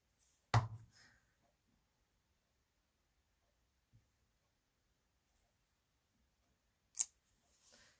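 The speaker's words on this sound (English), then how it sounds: "So I might as well stamp that." A rubber stamp presses onto a sympathy card: two sharp, close thuds, one near the start and another about six seconds later, with near silence in between.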